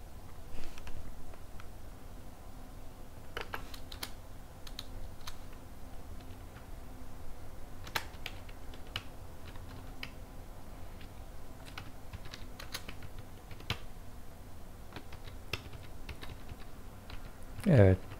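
Fingers typing on a computer keyboard during a Bash scripting lesson, soft scattered key clicks in irregular bursts at a moderate distance over a quiet room hiss, with no talk.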